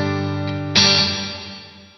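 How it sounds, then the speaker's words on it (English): A sustained guitar chord rings out, then a fresh strum blooms into a washy reverb tail from a Poly Effects Beebo pedal that slowly fades away. "So that reverb you hear there is just this."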